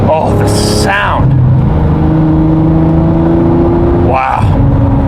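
A 2017 Lamborghini Murcielago LP640 V12 engine rising and falling in loud revs from inside the car, with a brief voice near the start and another surge near the end.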